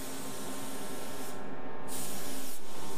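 A paint spray gun sprays sealer onto the back side of a car louver during a custom paint job, giving a loud, steady close-up hiss with brief dips as the trigger eases and resumes.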